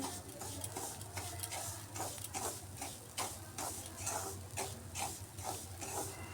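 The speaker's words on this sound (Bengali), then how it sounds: "এর মধ্যে আমি দিয়ে দিচ্ছি এক বাটি কুড়িয়ে রাখা নারিকেল এটাও সুজির সাথে বেজে নিচ্ছি" Grated coconut and semolina are stirred together in a pan, giving a quiet, steady sizzle broken by regular scraping strokes of the spoon, close and alone with no voices.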